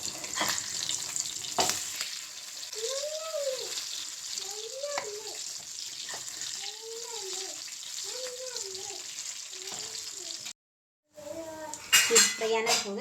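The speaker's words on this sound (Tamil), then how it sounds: "சால மீன் போய் ஃப்ரை பண்ணியாச்சு." Sardines (chalai fish) fry in a pan with a steady broadband sizzle, close and continuous, while a voice speaks intermittently over it and a few sharp clatters sound near the end.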